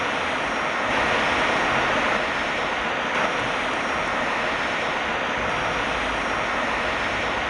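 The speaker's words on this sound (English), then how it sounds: "There's a rocket plane." A rocket plane in the WWII shooter Return to Castle Wolfenstein roars steadily at an airfield, a broad sustained engine rush with a windy, surf-like hiss that holds level for several seconds, with no talk.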